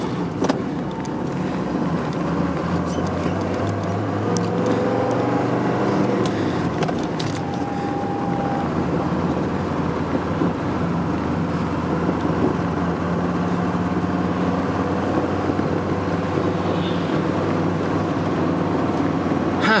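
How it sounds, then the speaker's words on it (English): A 1984 Mercedes-Benz 300TD W123 diesel station wagon with a four-speed gearbox, heard from inside while it accelerates, its engine drone rising over a low vibrating rumble, loud and steady with no talk. "you can hear that little vibration I was talking about. When you accelerate a little bit,"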